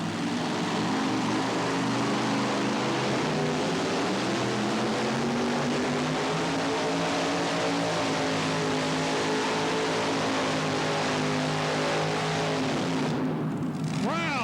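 A Hemi-engined Chrysler-powered 1923 Ford Model T replica on a pulling run, its engine roaring loud and sustained with rising and shifting tone, then cutting off abruptly near the end.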